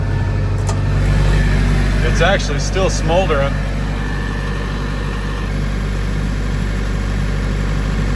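A steady low tractor engine idles and rumbles throughout while a person speaks briefly over it.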